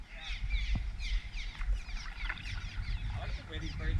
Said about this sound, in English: I like the way these birds sound.